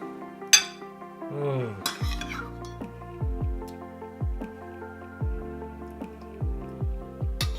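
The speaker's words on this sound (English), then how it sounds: "we're gonna add our cooled off strawberry syrup to it" Cooled strawberry syrup poured into a vanilla custard mixture for French toast, heard as a series of close, wet drips and plops at a fairly regular rhythm.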